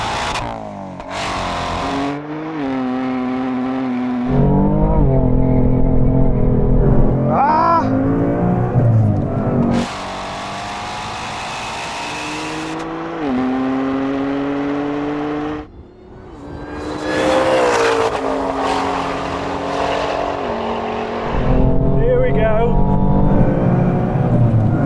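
A Ford Mustang and a BMW M4 in a drag race, engines revving hard through repeated gear changes with rising and falling pitch, loud and close, plus bursts of whooshing wind noise.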